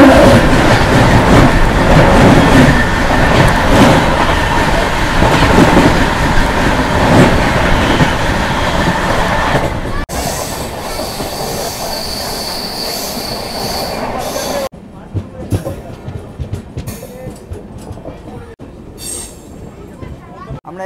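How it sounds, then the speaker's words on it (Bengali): The 15929 Tinsukia Express passes at a crossing near Aluabari Road Junction, a loud, close rumble of wheels with squealing rails and rhythmic clatter, fading and giving way to scattered clanks. "15929 তিনসুকিয়া এক্সপ্রেস আসছে, কিন্তু ক্রসিং হতে চলেছে"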